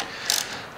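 A ratchet wrench tightens a bolt on a 2022 Harley-Davidson Road Glide ST, giving one short burst of quick clicking pawl ticks, close and fairly quiet, with no talk.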